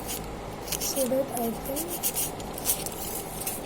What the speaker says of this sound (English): So what I am doing is I am trying to cut it